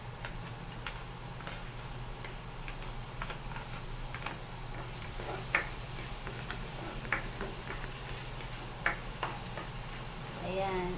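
Finely chopped garlic sizzles in melted butter in a pan, a steady soft frying hiss with occasional light ticks and stirring taps, fairly quiet throughout.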